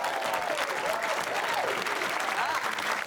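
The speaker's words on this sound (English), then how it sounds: "Give her a round of applause." Studio audience applauds a contestant on a comedy panel show, a full steady wash of clapping with a few whoops and cheers riding over it, sustained evenly throughout.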